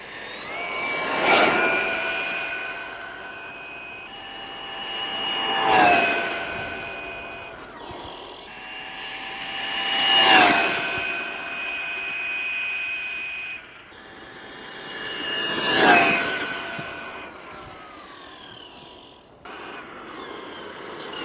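A Team Corally Radix 6 1/8-scale RC buggy makes four high-speed passes. Each pass brings a whining motor that rises to a loud peak as the buggy goes by and then falls away, with short gaps between passes.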